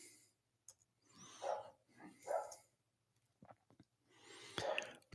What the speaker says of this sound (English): As I hear Abby the Break Dog barking from up here.